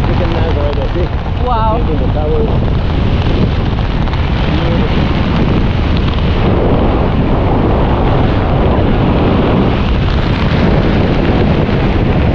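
Strong wind roars steadily and loudly against the microphone during a skydiving landing, a broad continuous rushing that fills the whole stretch, with brief voice-like fragments near the start.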